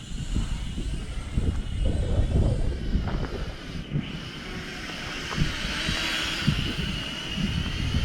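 A Helifar Z45 mini drone's motors whine overhead in strong wind and snow, a thin steady buzz mostly buried under heavy gusting wind noise, with no talk.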